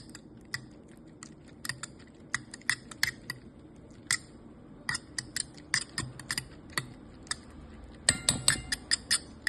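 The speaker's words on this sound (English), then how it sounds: "It's actually a cutting motion. It's like a chop, lift, go around. Chop, chop, chop." Irregular quick chops of a knife hitting a cutting board, sharp close taps in uneven bursts, with a louder cluster near the end.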